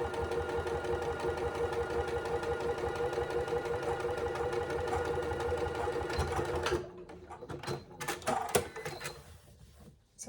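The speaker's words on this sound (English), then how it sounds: "you just need to top stitch the top of your pocket" A sewing machine top-stitches across the top of a fabric pocket with a fast, steady mechanical whir that runs for several seconds, then stops, leaving a few scattered clicks and handling knocks.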